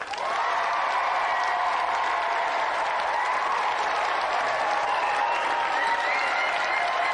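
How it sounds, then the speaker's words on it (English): A large audience applauds steadily, a dense continuous wash of clapping that holds at an even level throughout. "Not too much applause. That's quite enough, thank you."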